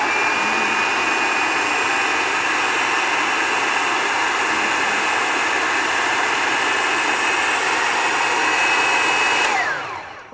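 Electric mixer running continuously through gluten-free black bean brownie batter, a steady loud whirring drone close by that winds down at the end.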